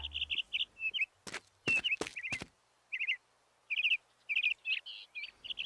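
A small blue cartoon bird chirps in quick bright bursts of tweets, with a few sharp clicking knocks midway and brief pauses between phrases.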